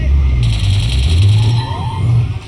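A road vehicle approaching fast on a street, its loud low engine rumble swelling and holding close, with people talking over it and a brief tire or brake squeal near the end.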